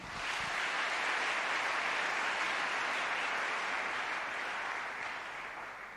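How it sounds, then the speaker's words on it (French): A church congregation applauding together to acclaim the Lord, a dense, steady roar of clapping that fills the room evenly and fades slightly toward the end. "Acclamons le Seigneur."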